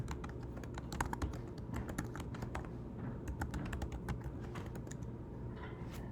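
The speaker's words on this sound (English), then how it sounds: "I can type this sentence in the text box." Steady, rapid keyboard typing with irregular clicks and keystrokes, close and moderately quiet, over a low background hum.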